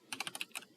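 Quick bursts of keystrokes on a computer keyboard, about six light taps in rapid, slightly uneven rhythm, close and quiet with no talking.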